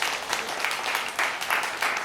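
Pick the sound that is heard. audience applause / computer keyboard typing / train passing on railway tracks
audience applause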